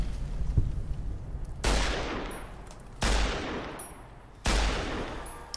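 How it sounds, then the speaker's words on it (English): Gunshots ring out in Fallout: New Vegas against Cazadores, three sharp, loud reports spaced about a second and a half apart, each with a long decaying tail, over a low background rumble. "let's see if I can get the shot off"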